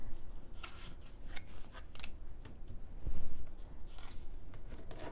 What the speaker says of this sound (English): This deck is still new, so it's really difficult to shuffle it.